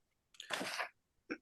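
A single quiet sneeze with a short breathy build-up and burst, followed by a brief faint sound, heard at a distance against a near-silent online meeting.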